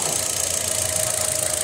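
A used family car's engine idles steadily in Riyadh, Saudi Arabia, giving a continuous mid-pitched hum with a faint rhythmic knock or rattle, close by and with no speech over it.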